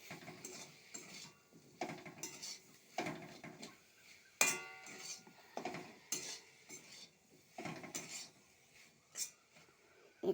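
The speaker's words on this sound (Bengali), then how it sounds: "সয়াবিন আলুটা দেবো এবার, দিয়ে মশলাটা কষাবো সয়াবিনটাকে" Soybean chunks and fried potato are stirred and sautéed with spices in a pan, with intermittent scraping and clinking of a utensil and a soft sizzle, close and moderately loud, no voices.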